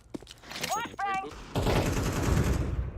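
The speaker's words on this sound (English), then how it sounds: "Flashbang!" A flashbang grenade detonates in Counter-Strike, a sharp bang opening into a loud sustained noisy wash, preceded by a brief voice callout and scattered clicks.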